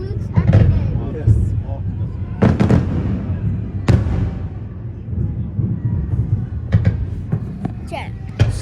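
New Year fireworks burst in a string of sharp, loud explosions, some near and some farther off, with rumbling echoes between blasts and people talking in the background.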